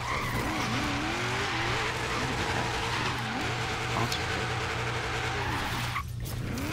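A car in the racing game Forza Horizon 3 drifts and spins out, with tires squealing in long wavering screeches over a steady engine drone, ending in a brief abrupt cut.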